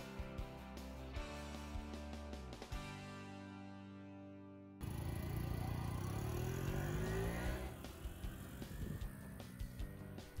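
A 4-stroke Honda Super Cub and an electric Etalian Classic motorbike rev up and accelerate, pitch climbing steadily; one run cuts off and a second, rougher, louder engine takes over.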